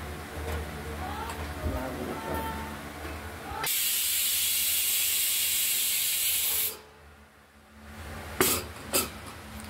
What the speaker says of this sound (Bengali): মুগের ডালটা প্রেসারে 3টে সিটি দিয়ে নিয়েছি।